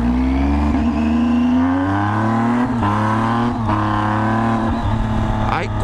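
Triumph Tiger 800 motorcycle engine revving with a slipping, dragging clutch, a steady loud close drone that rises and dips in pitch with a few brief throttle blips, no talk over it.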